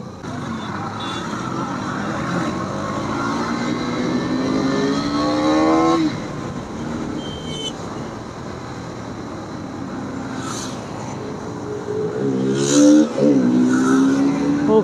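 A group of motorcycles riding along a road, engines droning and revving nearby with rising and falling pitch as bikes pass, loudest toward the end.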